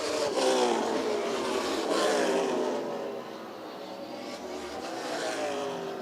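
Race cars roar around the oval at Sandusky Speedway on the final laps of a main event, a loud continuous engine drone rising and falling as cars pass.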